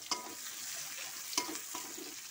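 Onion and tomato sizzling steadily in a pan while a spoon scrapes and stirs now and then, giving a couple of brief clinks over the constant frying hiss, with no voices.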